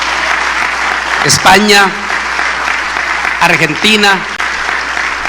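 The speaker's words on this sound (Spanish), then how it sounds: "Demos un aplauso de bienvenido a los miles que se nos están uniendo en este momento" A church audience applauds loudly and continuously in a hall to welcome viewers, while a man calls out country names over the clapping.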